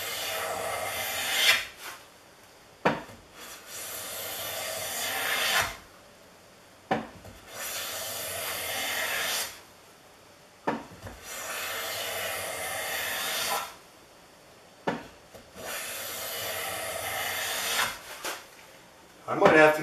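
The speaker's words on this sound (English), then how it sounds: "Nice thin shavings jumping right out of the throat." Stanley No. 3 smoothing plane taking thin shavings off a wooden board: repeated long, airy rasping strokes, about five in sequence with short pauses between, close and fairly loud, with no talking.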